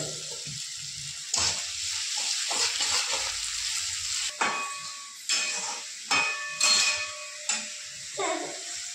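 Soybean pulao stirred in hot oil in a pan, a soft steady sizzle beneath repeated scraping and clinking of a spoon against the pan at an irregular pace, fairly quiet and close.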